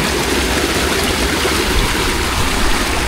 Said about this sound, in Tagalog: Ganyan po kalakas yung tubig ng paglabas.